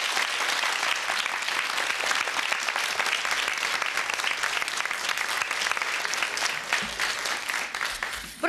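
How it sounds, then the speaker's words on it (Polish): Sustained, dense audience applause in a television quiz show studio, celebrating a contestant who has just won the prize, steady and loud throughout with no pauses. "I jeszcze raz duże brawa dla pana."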